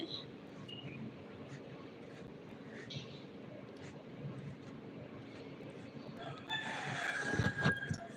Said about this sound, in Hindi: कई बजे मुर्गा बोल रहा है?